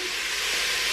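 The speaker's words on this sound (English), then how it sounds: "So whilst that is frying" Vegetables for a vegan smoked garlic pumpkin soup fry in a pan, giving a steady close hiss and sizzle for a brief moment with no talking.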